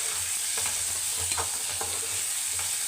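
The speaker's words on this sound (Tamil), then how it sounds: "கொஞ்சமாக உப்பு சேர்த்து நல்லா வதக்கணும்" Karuvadu thokku mixture of dried fish and tomato, with a little salt, being stirred in a pan on the stove, giving a steady low sizzle with occasional soft scraping strokes throughout.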